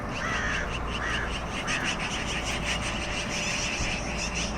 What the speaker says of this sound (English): look at that big old crow trying to kick out those magpies up in that tree